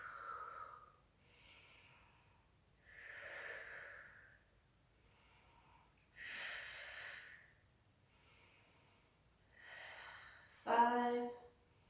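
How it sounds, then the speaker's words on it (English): Loud, deep breaths come in a steady rhythm during a core stability workout, roughly half a dozen slow inhale-exhale cycles up close, ending in a sharper forceful exhale. "Breathe loudly and deeply."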